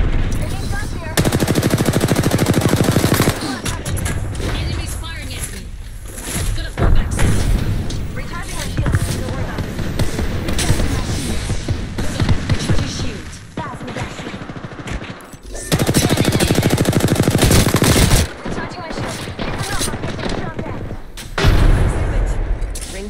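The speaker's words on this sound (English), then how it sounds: "Taking shots here. Enemies firing at me." Gunfire in the shooter video game Apex Legends on the Olympus map, loud sustained bursts and volleys of shots with brief lulls, mixed with game effects and some talk.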